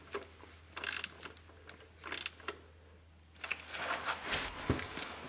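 A ratchet tightens a transmission pan bolt in short bursts of quick clicking, several separate runs of pawl clicks close by with brief pauses between.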